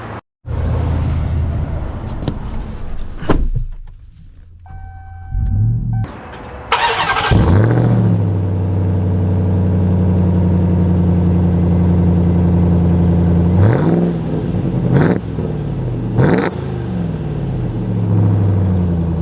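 A 2024 Ram TRX pickup truck starts up and settles into a loud, deep engine idle with a few revs, heard close, with brief clicks and chimes before the engine catches.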